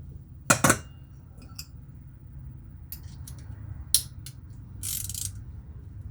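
A 3-in-1 ratchet wrench bought from AliExpress, loosening a 10 millimeter bolt: a few sharp metallic clicks and ratcheting bursts, close and fairly quiet, separated by pauses with no talking.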